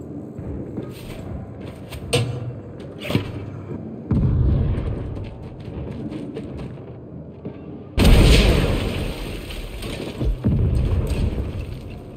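A rocket fired in Saints Row, with heavy booming blasts and mechanical clatter: a couple of sharp hits early on, then a loud burst partway through and a bigger, roaring explosion near the end, with no talking.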